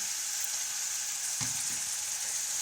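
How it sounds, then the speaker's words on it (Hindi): Chicken pieces sizzle steadily in hot ghee in a pan for an aloo matar chicken dish, a dense continuous crackling hiss with a brief thicker burst partway through as the pieces are moved, with no voices. "और चिकन को करेंगे अच्छे तरीके से फ्राई"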